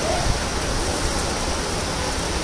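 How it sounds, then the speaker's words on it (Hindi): First monsoon rain in Mumbai falling steadily, a dense, even hiss of rainfall close by with no voices. "मुंबई की फर्स्ट बारिश है ये"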